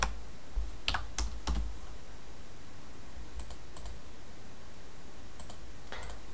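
Fingers type on a computer keyboard in a few quick clusters of sharp clicks, loudest at the start, then fainter, sparser taps over quiet room hiss.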